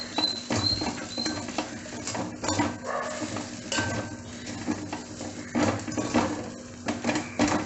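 A spoon scrapes and stirs as garam masala is mixed into leftover roti upma in a pan, with steady close clinks and scraping and no voices.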